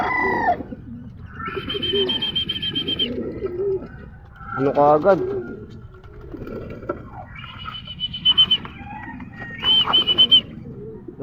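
Pigeons coo repeatedly in low, throaty rolls close by, with brief chirps and a person talking over the birds at times, in Bocaue, Bulacan.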